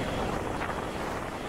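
Steady, rushing wind buffets a small action camera's microphone on a motorcycle ride past a flyover, a loud, continuous roar with no voices.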